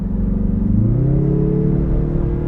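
A Mazda3 Turbo with an automatic transmission climbs a hill, its turbocharged engine droning loudly and close, then rising smoothly in pitch as it pulls harder, with no talk.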